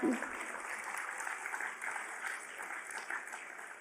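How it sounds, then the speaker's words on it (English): Steady applause from a crowd, a dense wash of clapping that holds at an even level throughout. "You can clap for that."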